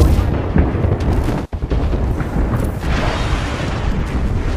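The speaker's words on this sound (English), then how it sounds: "Signaling an airstrike!" Loud, dense rumbling barrage of airstrike explosions in the Apex Legends video game, with booms layered continuously across the clip and a brief sharp dropout partway through.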